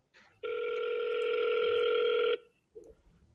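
Ringback tone of an outgoing telephone call sounds as a single long, steady electronic ring lasting about two seconds, loud and alone, followed by a short faint blip.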